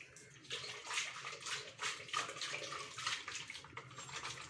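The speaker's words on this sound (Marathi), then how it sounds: "थोडा आणखी मी इथे पाणी ॲड करत आहे" Water pours in irregular gushes into thick dosa batter, a soft splashing and gurgling close by, fairly quiet with no talking.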